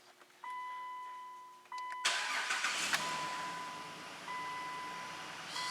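A Jeep or Dodge engine with a charging fault cranks and catches, then settles into a steady idle. A warning chime pings intermittently throughout and the engine stays fairly close and moderately loud.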